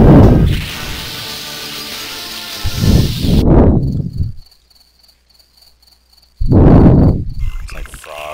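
Night ambience of frogs and crickets from the video game Night Trap on Sega CD: a steady high insect trill and croaking chorus, interrupted by loud crashing bursts and a brief quiet gap.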